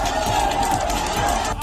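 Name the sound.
protest crowd chanting slogans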